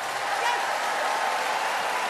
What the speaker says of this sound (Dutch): En daar mag ik best wel even een applaus voor geven.